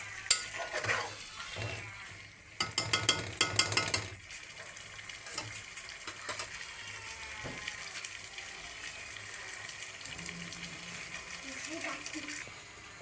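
Meat and spices stirred in a pot over heat give a steady close sizzle of frying, with scraping stir strokes and a louder clattering flurry early on, and soft intermittent talk underneath.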